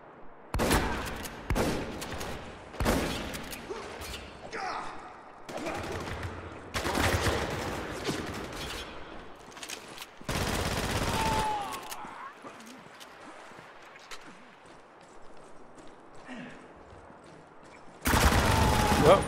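Gunfire in the multiplayer shooter Spec Ops The Line, with a team deathmatch on the Crow's Nest map: repeated bursts and volleys of shots at varying loudness, separated by quieter stretches, ending in a loud burst.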